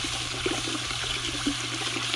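Water sloshing and trickling as a bucket of gravel is shaken to rinse out fine material and mud, a steady watery wash with soft bumps, alone without talk.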